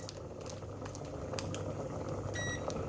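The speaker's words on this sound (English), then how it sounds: "it's boiling nicely" Water bubbling at a steady rolling boil in a pot, a continuous dense simmering noise with a few faint electronic beeps near the end.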